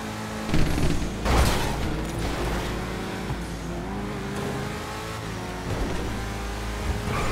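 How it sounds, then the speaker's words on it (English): A car engine in Grand Theft Auto V drones and revs steadily on a freeway, with a couple of louder surges early on, like a vehicle cruising at speed. "The sound that engine makes on the freeway"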